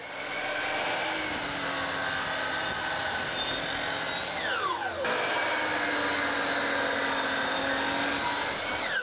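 Power saw cutting 45-degree miters in a wood countertop, a loud, continuous whine that dips briefly mid-cut before resuming, close and steady throughout.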